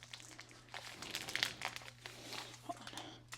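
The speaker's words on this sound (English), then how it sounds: "No cookies were touched in the opening of the cookie package with the key." Crinkly plastic cookie package being torn open with a key and crumpled, a close series of rustling crackles and rips with a steady low hum underneath.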